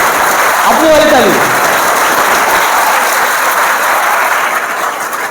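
An audience claps for the teachers, with steady, dense applause filling the room for several seconds before easing slightly at the end, a voice briefly audible near the start.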